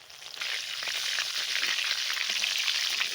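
Cinnamon, cloves, cardamom and bay leaf hit hot oil for a chicken curry, a crackling sizzle that swells after a brief quiet start and holds steady, close and moderately loud.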